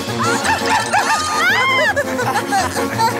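A dog barks and yips in a chaotic cartoon chase scene, with bursts of excited shouting and chatter from several voices over a music backing, the barking mixed under the busy voices.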